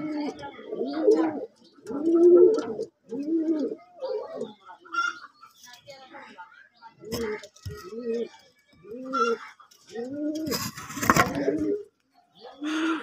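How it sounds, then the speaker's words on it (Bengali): Double pigeons kept for sale coo close by in repeated low, throaty phrases with short pauses between them, with occasional rustling and other bird sounds mixed in. "এখানে আছে হচ্ছে ডাবল কবুতর।"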